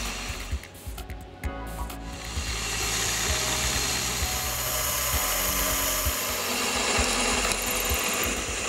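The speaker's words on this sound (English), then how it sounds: "then drilled out the central section of the cutter profile" A drill bores out the center of a steel lathe form tool. A few uneven knocks and bursts are followed by a steady, continuous grinding whir of the bit cutting into the metal, fairly close and with no talk.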